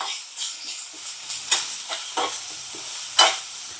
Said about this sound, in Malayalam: കറിവേപ്പിലയും പച്ചമുളക് ഇട്ട് ഒന്ന് നന്നായിട്ടെടുത്ത് വാട്ടിയെടുക്കണം കേട്ടോ